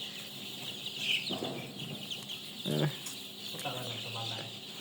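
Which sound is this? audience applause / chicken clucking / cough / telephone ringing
chicken clucking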